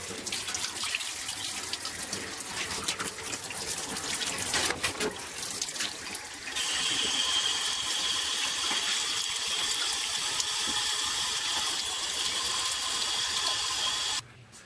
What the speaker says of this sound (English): I just want to get that water really good and warm, almost hot, so that when I soak the leather, it will really get pliable.